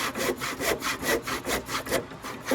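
Hand saw cutting through deck lumber, a steady rhythmic rasp of back-and-forth strokes, close and fairly quiet with no talk.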